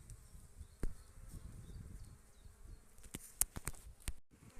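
Honeybees hum at a hive entrance in spring, a faint low buzzing broken by several sharp clicks and knocks toward the end.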